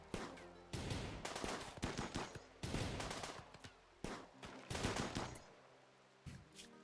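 Rimworld gunfire comes in repeated rapid bursts of automatic shots, sharp and fairly close, separated by short pauses, with no talking over it.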